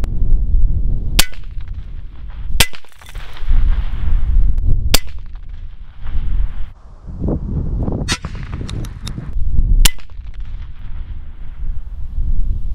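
Several loud M1 carbine rifle shots fired outdoors at an original German steel helmet 150 meters away, sharp isolated cracks spaced a second or more apart, with rumbling echo and wind between them and no talking.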